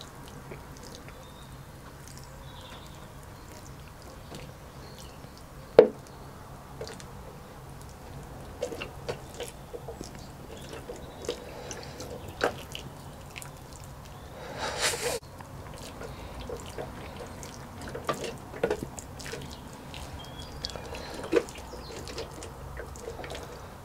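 Freshly sown pea seeds in labelled pots get a gentle watering, a faint soft trickle and patter of water with scattered drips and a few small knocks, quiet throughout.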